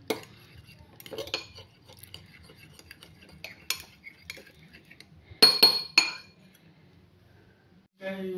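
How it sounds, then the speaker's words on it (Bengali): A fork beats eggs with coriander in a bowl, giving sparse clinks and scrapes of metal against the dish, with a sharper cluster of taps midway and quiet gaps between them. "আমি কাটা চামচের সাহায্যে সুন্দর করে মিশাল করিয়ে নিলাম"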